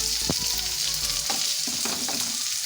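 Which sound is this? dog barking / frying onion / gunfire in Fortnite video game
frying onion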